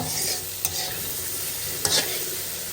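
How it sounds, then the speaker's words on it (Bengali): Shrimp frying with cauliflower and cumin in a pan, a steady close sizzle with two brief scraping stirs of a spatula. "ভাজা ভাজা করে নেব"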